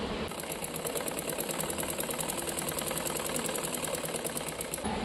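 A sewing machine runs a straight plain stitch while an Anarkali frock is being sewn, a steady rapid mechanical whirring and clatter held for several seconds, close and even, with no voices.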